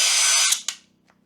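A Grosser GCD 101KBT cordless drill-driver whirs at high speed alone, then winds down with a couple of brief trigger blips before falling quiet.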